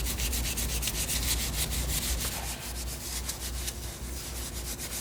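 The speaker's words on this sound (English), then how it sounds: "would have to scrub down with our steel wool and metal polish" Steel wool and metal polish scrubbed against a chrome car wheel caked with dirt and brake dust, giving a steady, close, continuous abrasive rubbing with rapid back-and-forth strokes throughout, without any talk.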